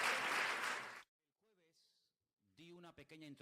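A church congregation claps, a loud, dense wash of applause lasting about a second that cuts off sharply, followed after a pause by someone speaking.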